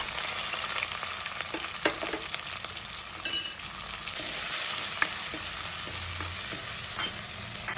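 Ten small shallots fry in a quarter teaspoon of coconut oil in a pan for fish curry, a steady close sizzle running throughout with occasional stirring scrapes and clicks, no voices.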